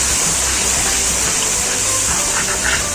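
Water poured into a pan of chicken karahi masala makes a steady loud gushing hiss that runs unbroken from start to finish.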